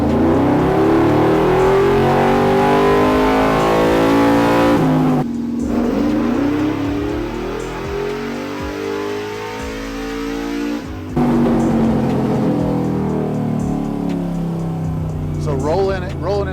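A cammed 6.0L V8 swapped into an OBS truck revs hard on a dyno, a loud, close roar that climbs steadily in pitch, drops briefly at a shift, then climbs again with crackling exhaust and a whirring drivetrain.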